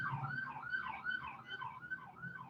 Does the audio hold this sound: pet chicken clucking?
no